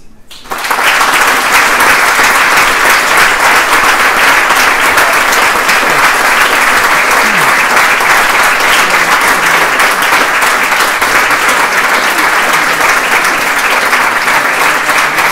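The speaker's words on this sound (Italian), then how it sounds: "Applauso per Gramsci." Audience at a conference on Antonio Gramsci breaks into loud, sustained applause, a dense wall of clapping that starts abruptly and holds steady to the end.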